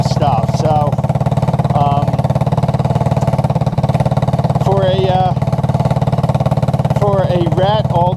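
A rough-running all-terrain vehicle engine fitted with a new carburetor, with a sticky automatic clutch, drones steadily and loudly at idle throughout while someone talks over it in bursts.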